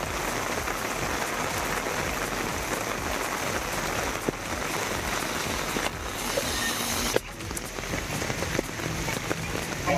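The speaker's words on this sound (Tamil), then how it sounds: "பல்வேறு பகுதிகளில் பலத்த மழை கொட்டியது" Heavy summer rain pouring down in Tamil Nadu, a dense, continuous hiss of water striking surfaces, steady and close with no voices.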